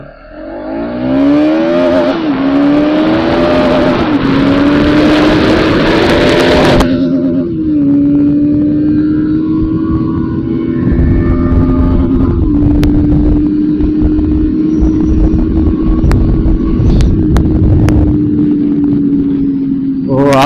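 A Bajaj Pulsar NS 200 motorcycle pulls hard from standstill toward 100, with a loud, close engine note climbing in pitch through the gears and a steady roar of wind and road at speed, without pauses.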